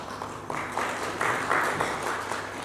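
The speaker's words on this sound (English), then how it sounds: "So, can we give ourselves a round of applause?" Audience applause at a breakfast meeting on quality apprenticeship in Kenya: several loud bursts of clapping rise and fall in waves over a low electrical hum in the venue.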